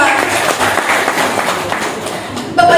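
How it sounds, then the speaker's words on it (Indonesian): Applause rises from the crowd at a Ministry of Religious Affairs anniversary ceremony, a moderate wash of clapping with voices audible alongside it and a brief tonal ring near the end. "tepuk tangan yang meriah untuk kita semua"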